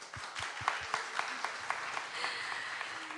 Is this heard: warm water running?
no